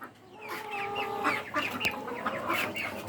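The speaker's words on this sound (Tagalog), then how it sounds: "Ayan yung mga alaga natin na itik mga kaibigan, naghihintay na sila na lumabas." Caged ducks waiting to be let out make a continuous chorus of clucking, quacking calls up close, many birds overlapping.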